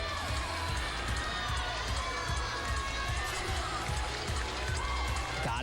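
Arena crowd cheering at a women's gymnastics championship, a continuous roar of shouts and whoops with rhythmic thumping underneath, steady and moderately distant.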